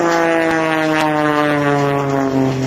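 Extra 300 aerobatic plane flying inverted along the flight line at an air show, a loud steady propeller drone with a strong engine buzz throughout, close and continuous.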